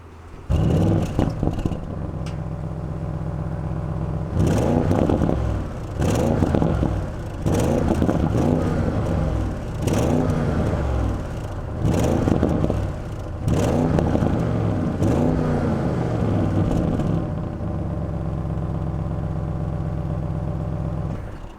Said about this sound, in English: I love my V8s and they sound absolutely amazing, especially with this performance exhaust